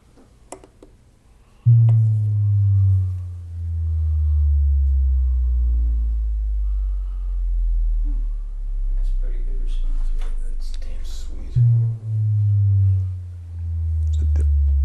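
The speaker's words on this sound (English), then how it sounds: "This also has a built-in frequency generator, a sweep." Sine sweep tone from an XTZ Room Analyzer played through dual subwoofers in a room: a loud, steady low tone that glides slowly through the bass range, then restarts near the end.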